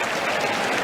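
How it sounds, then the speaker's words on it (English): Crowd applause at a tennis match at the Australian Open, a steady broadband patter of clapping filling the whole moment without pause. "we've got a little round of applause"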